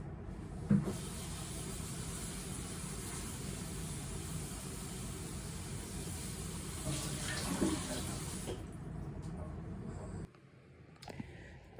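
Kitchen tap water pours steadily onto cut potatoes in a bowl or pot, a constant close hiss and splash for most of the time, then cutting off abruptly, leaving a few faint clinks.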